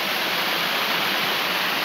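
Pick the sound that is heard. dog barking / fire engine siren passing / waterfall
waterfall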